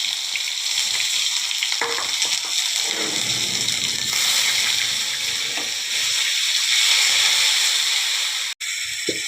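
Onion paste sizzling loudly in hot oil with whole cumin, cinnamon, mace and cardamom, a steady close frying hiss with occasional stirring scrapes and no talking.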